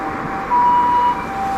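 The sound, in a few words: ambulance siren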